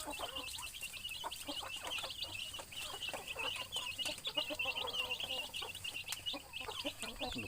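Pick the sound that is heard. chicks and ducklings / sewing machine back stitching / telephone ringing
chicks and ducklings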